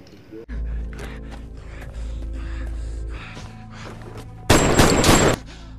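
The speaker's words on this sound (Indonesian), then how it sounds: "Nick tetap mengejarnya hingga sampai di suatu tempat dia menembak Ray hingga tewas" Gunfire from the film Den of Thieves: a loud burst of several shots in quick succession, preceded by low rumbling score and tense ambient sound.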